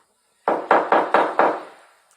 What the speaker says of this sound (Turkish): Nasıl hala çalıyor kapı?